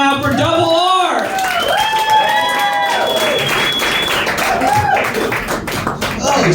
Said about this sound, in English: put your hands together, make a lot of noise, start clapping right now for Double R!